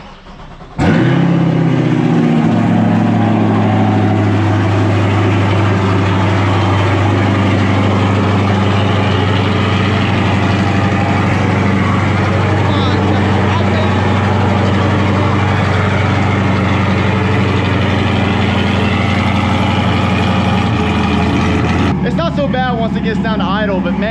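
A Chevrolet Corvette C8 fitted with a titanium exhaust cold-starts inside a garage, with a sharp crank and loud bark followed by a sustained, very loud high idle and a drop in pitch near the end.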